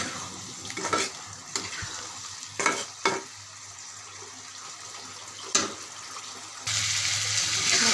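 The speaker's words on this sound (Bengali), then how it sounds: "এখন আলুটি আমি মশলার সাথে ভালো করে কষিয়ে নেব।" Boiled potatoes stir-fried with cooked spices for an egg and potato bhuna, giving a steady close sizzle with repeated scraping stirs of the spatula. The frying swells louder near the end.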